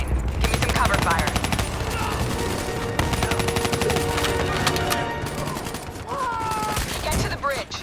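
Sustained automatic gunfire and rapid rifle bursts from a Call of Duty Black Ops 3 firefight, loud and continuous throughout, with brief voices and background battle noise mixed in.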